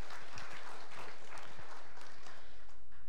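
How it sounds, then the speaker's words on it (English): A church congregation gives brief, fairly quiet applause, a soft patter of many hands that lasts a few seconds. "You can clap."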